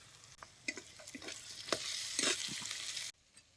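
Green chilli paste and turmeric fry in oil in a pan, giving a steady close sizzle with scrapes and clicks from stirring. The sizzle cuts off abruptly near the end and only a quieter tail follows.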